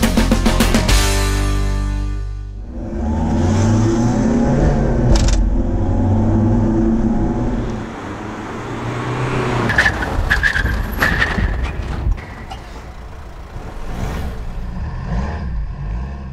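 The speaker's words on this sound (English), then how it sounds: "we showed both vehicles doing an emergency stop." Two vehicles make emergency stops, a loud engine drone giving way to screeching tyre skids that come and go in bursts at close range.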